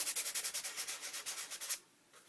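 Sandpaper rubbed over the back of a paper scrap card for an artist's trading card, in quick, even back-and-forth strokes, close and fairly quiet, then stopping near the end.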